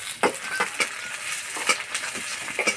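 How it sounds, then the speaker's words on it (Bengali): Chopped onion sizzles in mustard oil in a kadai, with a steady crackle and repeated sharp clinks and scrapes from stirring with a utensil, close and moderately loud. "তেলে দেবো পেঁয়াজ কুচি।"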